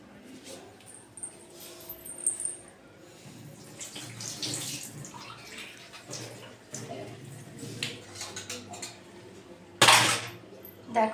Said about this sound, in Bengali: দেখো এই সর্ষের বাটিটা ধুয়ে খালি অল্প একটু জল দেব।